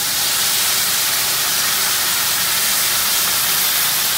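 White wine poured into a hot pan of vegetables, giving a loud, steady sizzling hiss that continues without a break and with no voices.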